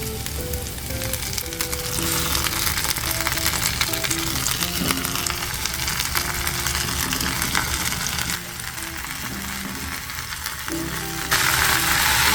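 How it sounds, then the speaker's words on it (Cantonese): Enoki mushrooms fry loudly in a pot after the shallots, ginger and garlic, a dense hissing sizzle that dips briefly and then surges back. "爆香之後落我哋嘅金菇"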